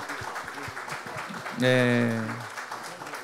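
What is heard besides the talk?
church congregation applauding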